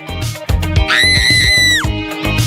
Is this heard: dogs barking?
no